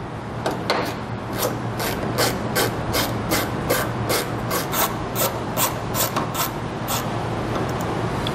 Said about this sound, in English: There's going to be two T27 nuts that we need to remove.